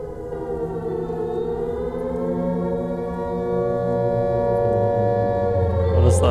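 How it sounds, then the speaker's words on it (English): A rising, wailing civil-defense-style siren sounds in the Skyrim Clockwork mod's steampunk castle, a loud sustained tone that swells slowly in pitch and volume for several seconds, heard alone without talk. "That siren."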